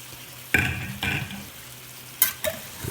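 Hamburger steaks frying in a pan are turned with a spatula, making a steady low sizzle broken by several sharp scraping and clattering bursts, two close together early and two more later.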